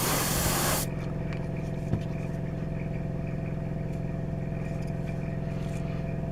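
A short, loud hiss of spray paint lays a quick coat onto parts of a Tamiya 1/12 scale Yamaha YZR M1 '09 model, then cuts off, leaving a steady mechanical hum alone.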